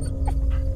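A dog pants steadily in short rhythmic breaths in the game Fears to Fathom: Carson House, close and fairly loud, over a constant low hum.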